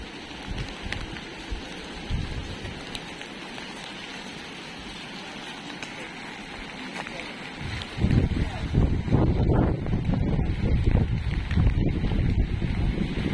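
Rain and strong wind from Super Typhoon Pepito lash a coastal village in Dinahican, Infanta, Quezon: a steady hiss of rain and gusting wind that swells into a louder, rougher roar partway through.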